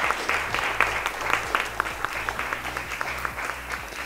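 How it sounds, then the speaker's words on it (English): Applause from an audience at the Elixir Honours 2020 awards evening honouring women's cricket contributors, steady clapping with a low hum running underneath and no talk over it. "yes, you can give that a huge, huge round of applause."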